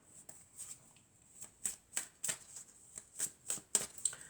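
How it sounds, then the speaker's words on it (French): Oracle cards being shuffled by hand, a series of soft, crisp riffling bursts in a quiet room, roughly a dozen short rustles in a loose rhythm. "on va prendre quelques cartes de l'oracle de la triade"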